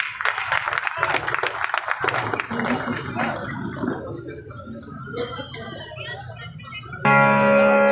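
Audience applause after a Bharatanatyam dance performance by young children, with someone speaking over dense clapping that fades to scattered claps before music cuts in.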